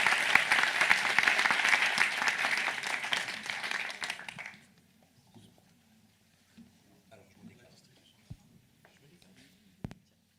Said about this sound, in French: Merci, vous pouvez les applaudir.